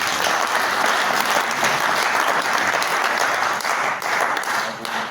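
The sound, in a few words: audience applauding the honorary president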